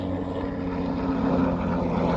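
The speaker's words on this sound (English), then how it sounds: "Just a minute for the helicopter to pass." Steady, loud droning rotor and engine roar of a helicopter passing over a maize farm, a continuous low rumble filling the scene with no voices.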